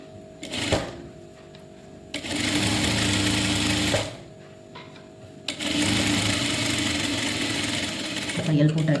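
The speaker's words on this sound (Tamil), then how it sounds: "ஒரு ஃபூட்டர் அளவு நம்ம வந்து தையல் தைக்க போகிறோம்" An electric sewing machine stitches the back part of a blouse in two long, steady runs of loud mechanical whirring, separated by a short pause, while someone talks at intervals.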